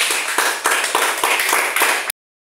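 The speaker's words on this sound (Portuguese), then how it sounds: "Palmas para a Bianca" A small group in a lively English class claps for a student who answered correctly, a short burst of close, crisp hand claps in a quick irregular rhythm that cuts off abruptly.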